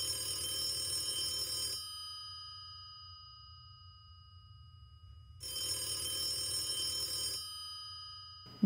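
An old telephone bell rings as a radio drama sound effect: two bright, metallic trilling bursts, each about two seconds long, separated by a long pause, clear and close with no voices.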